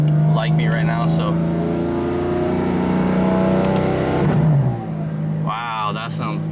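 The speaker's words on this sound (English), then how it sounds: "I can hear the turbo spooling up a little bit louder now from the hot side." A BMW F80 M3 with resonated downpipes revs and accelerates up close, turbo spooling, pitch climbing then dropping as gears shift, with a voice speaking briefly over it near the end.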